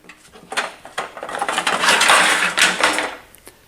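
A rotating saw blade cutting through material, a short harsh grinding rasp that builds, peaks and then tapers off over a few seconds.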